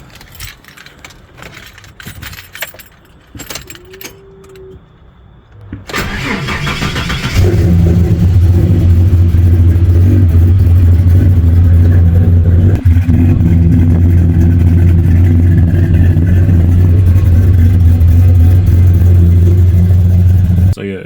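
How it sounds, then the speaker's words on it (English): A car engine cold-starts after a quiet stretch with faint jangling, catches with a brief rev, then settles into a steady, loud, close idle that runs to the end. "Do a little bit of a cold start and see how it starts from last time."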